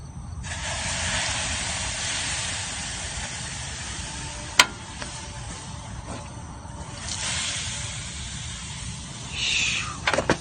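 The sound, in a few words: water poured on hot brake hub hissing and steaming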